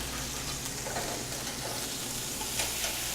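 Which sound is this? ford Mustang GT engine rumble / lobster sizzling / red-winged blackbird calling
lobster sizzling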